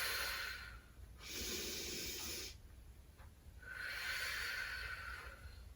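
Slow exhalations during a pilates posterior chain exercise, two long breathy hisses close to the microphone separated by a short pause and a quick intake, with no talking.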